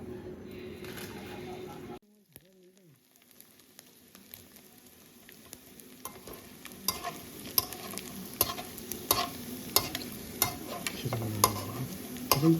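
Food sizzles and crackles in a hot pan, with sharp pops growing busier; a brief voice sounds early on.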